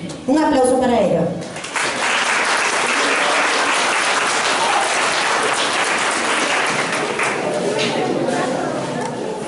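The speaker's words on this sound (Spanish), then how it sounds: "Un aplauso para ellos." Children at a school's Book Day event get a loud, dense burst of applause that starts after a brief voice and holds steady for several seconds before easing slightly at the end.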